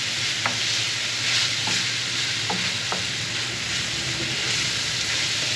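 Tomatoes sizzling in a pan, with a loud steady frying hiss and a few faint clicks of utensils, close and continuous, with no talk.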